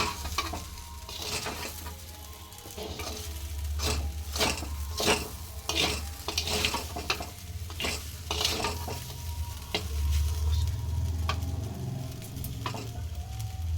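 Sago pulao with tomatoes being stirred in a frying pan, a steady sizzle under repeated scraping strokes of a spoon against the pan, close and continuous with no talking.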